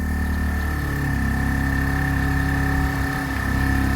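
A Keeway RKV motorcycle idles steadily in neutral after a carb clean, its low, even engine rumble holding constant and close, with faint vibration and no speech over it.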